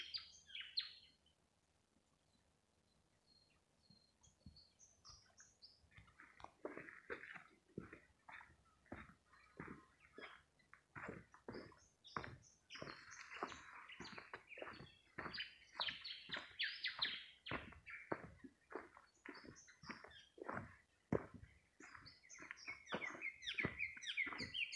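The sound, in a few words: bird song in a forest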